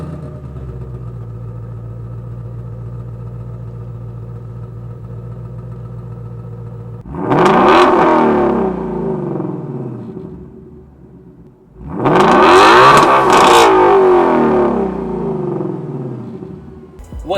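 A brand new Ford Mustang Shelby GT350 idles with a low steady burble, then its engine is revved hard twice in loud sweeping bursts that rise and fall back, captured on a camera microphone.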